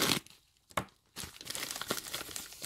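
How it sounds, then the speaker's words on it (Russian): Plastic bubble-wrap mailer packet of manicure supplies crinkling as it is handled and opened, close and loud, a couple of sharp crackles then a sustained rustling crunch. "Следующий пакетик такой, с пупыркой."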